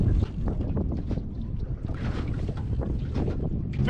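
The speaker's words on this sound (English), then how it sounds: "we got wind, we got waves" Strong wind buffets the microphone on a boat out on the Tennessee River, with rough waves slapping the hull in a steady, loud roar throughout.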